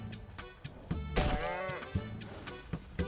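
Cow mooing in Skyrim, several long drawn-out bellows rising over game ambience with scattered thuds and clanks, loud and close, no talk.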